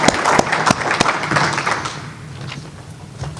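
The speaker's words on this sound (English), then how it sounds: "Let's give him a big round of applause." An audience claps in a brief burst of applause after a talk on CNC machining and innovation, sharp claps up front that fade within a few seconds.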